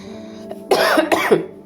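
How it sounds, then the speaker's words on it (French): Two close, throaty coughs in quick succession, the first longer and the second shorter, over a faint steady hum. "je tousse à chaque fois que je vous fais des vidéos"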